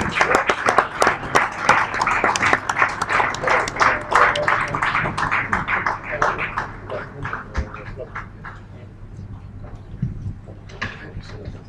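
An audience claps to welcome a pastor to the podium at a morning gathering. Dense, fast applause rings out for several seconds, then thins and fades under a low hum, with voices faintly present.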